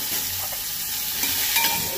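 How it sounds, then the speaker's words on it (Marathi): Ambade (hog plums) drop into hot tempering for a Goan Ekadashi faral dish and give off a dense, steady sizzle. The frying hiss is close and continuous, with a few faint stirring scrapes. "ते आतां फोडणेक घालता."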